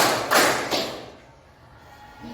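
Two quick, firm claps from a group of children in a counting clap game, near and clear, followed by a quiet room.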